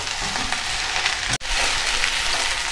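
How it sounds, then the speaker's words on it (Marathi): Okra (bhindi) fries in a pan with a steady, close, hissing sizzle. The sizzle dips briefly once, then carries on without any voices. "किती मोकळ्या प्रकारे आपली भेंडी इथे शिजती आहे"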